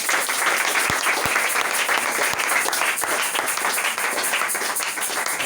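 A church congregation applauds loudly and continuously, dense clapping filling the room with a few sharper individual claps standing out.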